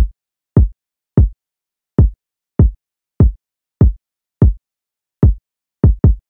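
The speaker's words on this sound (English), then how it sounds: "Then we're adding in the kick, which plays this loop." A trap beat's kick drum loop plays alone: about a dozen punchy, booming low thumps in a steady, slightly syncopated rhythm, loud and close.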